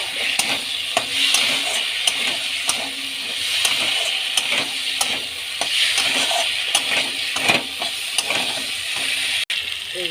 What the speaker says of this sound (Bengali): এই যে জল দিয়ে দিচ্ছি।